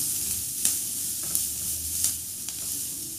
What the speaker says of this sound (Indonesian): Aduk dan tumis sampai harum.